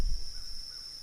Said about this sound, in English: you can hear the cawing of the crows, so you know that the day is breaking